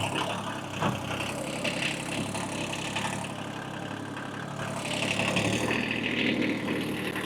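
A tractor engine runs at a steady idle while preparing for bush hogging, giving off a moderate, continuous mechanical drone that rises slightly in level toward the end.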